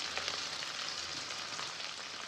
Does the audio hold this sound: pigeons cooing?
no